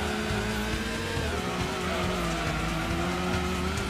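A TVR Griffith race car in Gran Turismo on the PS1 drones along with a steady, loud engine note and tire squeal, the pitch holding fairly even throughout with no talk over it.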